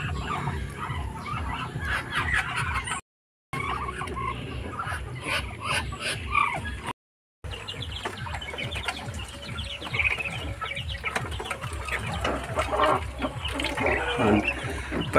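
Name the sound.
hen clucking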